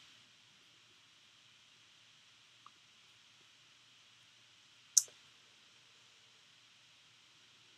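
A single crisp computer mouse click sounds midway through near-silence, preceded by a fainter tiny click, over a soft steady hiss.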